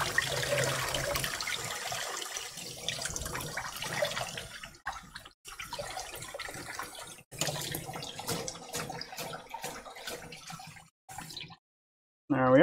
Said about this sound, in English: Let me go rinse my lettuce.